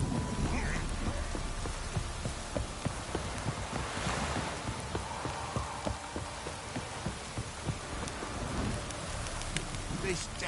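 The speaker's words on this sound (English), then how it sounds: "This downpour's a bastard, it is." Steady heavy rain pours down across the whole stretch in The Witcher 3: Wild Hunt, dense and hissing, with scattered drops pattering on surfaces nearby.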